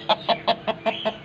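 A rooster clucks in a quick, steady series of seven short calls, close and clear, with no talking.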